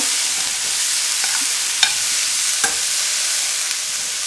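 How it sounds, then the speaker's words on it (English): Beans palya being stirred in a pan on an electric stove, a steady soft sizzle of frying with a few faint scraping clicks of the spoon, alone without talk. "I'm stirring it now."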